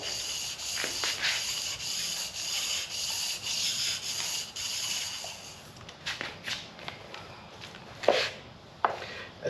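Hand sanding an engine part for a Ferrari 308 GTS engine build with fine 800-grit sandpaper: steady back-and-forth rubbing strokes for about six seconds, then scattered quieter scrapes and a few sharper knocks, close by with no talk.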